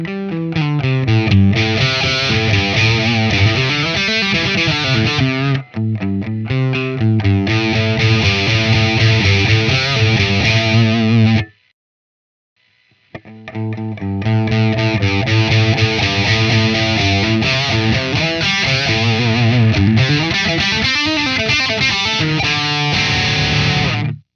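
An electric guitar played through a Celestion Plus digital impulse response, giving a loud, distorted, chordal riff that runs continuously, pauses briefly for about a second, then resumes with the same heavy, saturated tone.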